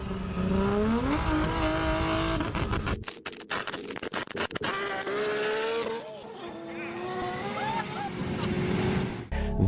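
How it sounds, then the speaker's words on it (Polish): A tuned car with anti-lag revs hard and fires sharp exhaust backfire pops, a burst of rapid cracks cutting through the rising and falling engine note midway, then more revving and a final loud pop. "to dochodzi do takiego właśnie spalania i strzału z rury wydechowej"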